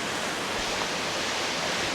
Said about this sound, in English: we're hoping we can get down to the bottom of the waterfall down here